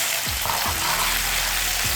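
Meat fries in a hot wok for a spaghetti stir-fry, giving a loud, continuous sizzle with crackling spatter and a few low scraping knocks.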